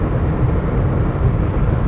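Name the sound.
tire road noise while driving 2003 Nissan Sentra SE-R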